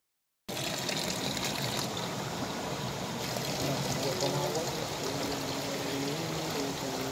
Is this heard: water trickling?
yes